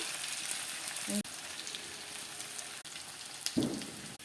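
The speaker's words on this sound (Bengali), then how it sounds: "এই যে কলা ভাজা তসলাতে দিয়ে দিছি" Raw green banana pieces frying in a tasla, a steady close crackling sizzle with a couple of brief louder knocks.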